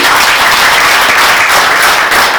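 A crowd at a wedding celebration applauds, with dense, loud clapping from many hands sustained evenly across the short span.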